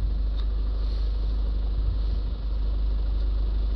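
Toyota Proace van engine idling, a steady low rumble that stays even and close with no talk over it.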